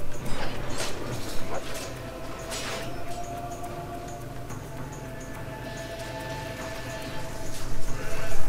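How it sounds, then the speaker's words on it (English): Rain in the video game Fable 2 falls indoors as a continuous patter with scattered sharper drops, under a faint tonal hum, moderately loud and steady throughout, with no talk. "I can make it rain inside."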